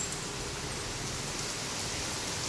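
Rain falling outside a home during the early morning, a steady, dense hiss of droplets that fills the whole clip evenly with no voices.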